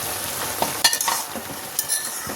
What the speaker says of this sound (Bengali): তো এবারে ডিমটা এর উপরে ঢেলে দেবো, দিয়ে একটু নাড়াচাড়া করে দেবো